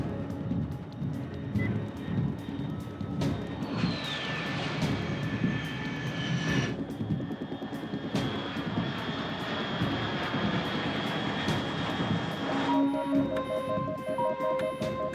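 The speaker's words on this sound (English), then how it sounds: "Control, unidentified aircraft detected." A jet aircraft engine drones steadily in the Metal Gear Solid 3 video game, a sustained whining roar with a pitch sweep partway through and brief interface blips near the end, no talking over it.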